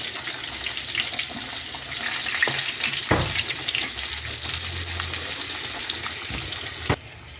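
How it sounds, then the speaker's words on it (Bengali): Onions hitting hot oil for a meat curry, a steady close sizzle and crackle of frying with occasional stirring clatter, running alone without voices until it drops off sharply near the end. "এবার পেঁয়াজটা মাংসের জন্য তেলে দিয়ে দিচ্ছি"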